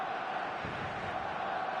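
Stadium crowd noise from an eFootball match, a steady broad roar with a brief low swell of impatient shouting, heard as continuous ambience with no clear speech.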